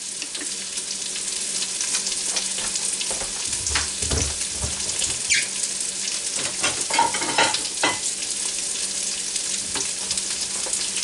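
Philly cheesesteak filling sizzles and fries in a Ninja Foodi while a utensil stirs it, a steady close hiss with intermittent scraping strokes and clicks against the pot.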